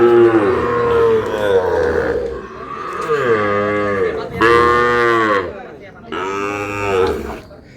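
Sahiwal bull calves on a cattle farm in Noakhali let out about four long, loud moos in close succession, each deep call swelling and fading one after another.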